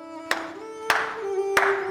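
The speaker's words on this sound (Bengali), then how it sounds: "আমি হাততালি দিচ্ছি।" Three sharp, loud hand claps spaced about half a second apart, standing out over a sustained musical tone in a stage drama setting.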